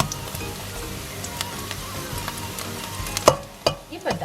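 Pork menudo browning in a frying pan, a steady close sizzle with faint crackles and a few louder scrapes or clinks of a spatula near the end.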